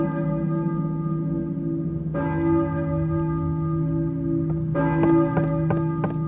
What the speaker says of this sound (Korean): 교회 종인가? 대체 누가 울리고 있는 거지?